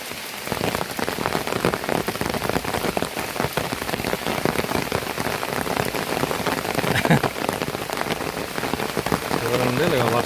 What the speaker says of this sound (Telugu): వర్షం అయితే గట్టిగా పడుతుంది.